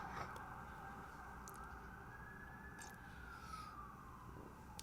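Emergency vehicle sirens wail faintly outdoors, heard from inside a quiet room, as one continuous rising and falling tone over a low background hum.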